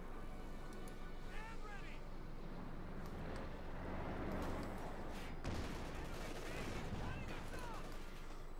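Pershing and StuG tank cannons firing in the World War II strategy game Company of Heroes 2, with a few booming shots and scattered gunfire in a busy battle mix under a voice.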